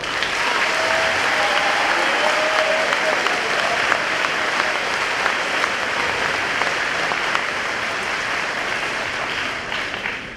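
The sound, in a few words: audience applause at a senior awards assembly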